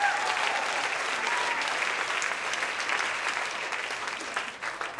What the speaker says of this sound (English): How about a round of applause for everyone, huh?